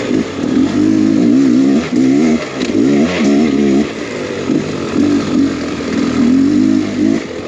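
Enduro motorcycle fitted with new tires, its engine buzzing and revving loudly and continuously with rising and falling pitch as it rides off-road, up close throughout.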